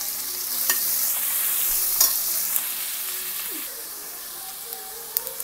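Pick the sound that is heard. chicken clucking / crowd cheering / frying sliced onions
frying sliced onions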